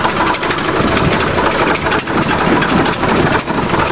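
A huge bulldozer engine idles with a loud, steady, low rumble that runs without a break. No voices can be heard over it.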